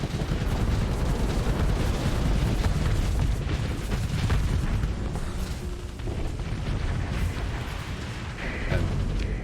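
Missile explosions from a space battle in Starsector, a dense, continuous barrage of overlapping blasts and bursts, loud and unbroken, with no talking heard.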